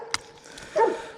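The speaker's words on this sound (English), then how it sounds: "Sorry about that dog barking" A dog gives a single short, fairly loud bark close by near the end, after a brief sharp tap at the start, outdoors beside the water.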